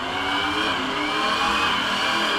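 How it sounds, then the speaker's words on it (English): A truck engine in a Roblox storm-chasing game revs steadily and loudly for the whole stretch, a dense continuous motor drone with rising throttle and no voices over it. "something that does not get old is the sound of this truck."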